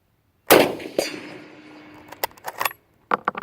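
A K98 Mauser rifle shot sounds one sharp, loud crack with a decaying ring, likely the steel silhouette target, then a second lighter report, a few metallic clinks and handling rattles follow, outdoors at a range.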